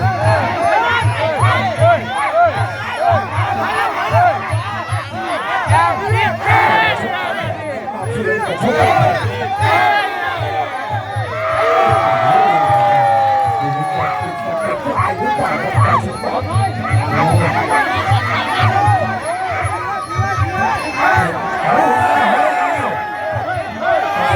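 Crowd noise at a Muay Thai fight, a dense roar of cheering and shouting that swells and falls throughout, with a commentator speaking over it.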